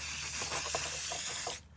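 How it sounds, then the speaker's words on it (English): White spray paint hisses from an aerosol can in a close, steady burst with slight pulsing, then cuts off abruptly at the end. "I ran out of white spray paint"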